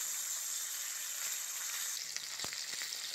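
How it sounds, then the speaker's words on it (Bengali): Rupchanda (pomfret) fish frying in hot oil for a fish curry, giving a loud, steady crackling sizzle throughout with a few sharper pops near the end. "মাছগুলো কিন্তু খুব ভালো করে ভেজে নিয়েছি"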